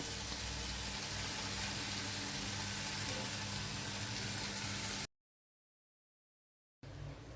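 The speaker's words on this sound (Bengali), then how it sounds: "এবার ধুয়ে রাখা মসুর ডালটা ছেড়ে দেব, তারপর 2-3 মিনিট ভেজে নেব।" Washed red lentils frying in a pan, a steady broadband sizzle for about five seconds, then a short silence before the frying resumes.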